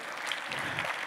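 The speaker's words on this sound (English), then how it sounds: "Let's give these people a round of applause." A brief burst of audience clapping at a conference keynote, steady and fairly soft throughout, with no voices over it.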